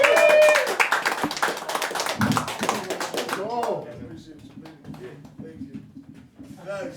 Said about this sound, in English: Another round of applause for the nice comics we had